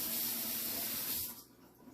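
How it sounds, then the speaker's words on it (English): Spoon rinsed under a running tap, a close hissing splash of water for over a second before it cuts off into near quiet. "I'm going to go ahead and now rinse my spoon"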